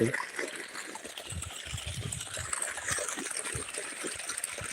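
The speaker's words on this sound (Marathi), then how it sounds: "हे बघा मित्रांनो कसं पाणी हो" Water trickles and splashes steadily through an irrigation channel into a wheat field, moderately close, with occasional sharper splashes.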